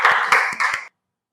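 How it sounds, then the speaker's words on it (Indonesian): Short burst of classroom applause for student groups, a few uneven claps over under a second, then silence. "Jadi tepuk tangan dulu untuk setiap kelompok ya."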